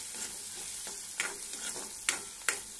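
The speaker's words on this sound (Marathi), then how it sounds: "छान अशी अद्रक लसणाची पेस्ट आपल्याला शिजवून घ्यायची आहे तेलामध्ये" Ginger garlic paste fries in hot oil with a soft, steady sizzle, broken by a few sharp scrapes and taps as a spoon stirs it in the pan, close and quiet.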